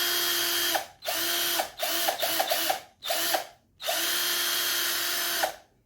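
A Deko 20V cordless drill whirs at a steady high speed on its second speed setting in several bursts, each cut by short pauses, with ratcheting clicks between runs, close and loud.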